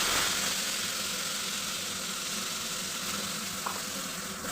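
Loud, continuous sizzling of an onion, ginger, garlic and tomato paste frying in hot oil, close up and steady throughout, with no voices.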